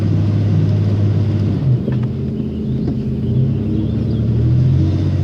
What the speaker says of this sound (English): Let's see if we can get some of that wheel spin on there.